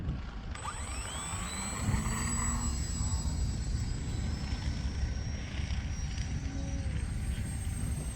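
Electric E-flite Valiant RC airplane on a 4S battery flying overhead, a steady motor and propeller whine that rises and falls in pitch as it passes, under constant outdoor background noise.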